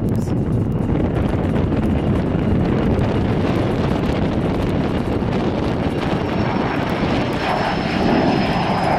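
A small airplane takes off at Aurora Municipal Airport, its engine a loud, sustained roar close by, mixed with wind buffeting the microphone throughout.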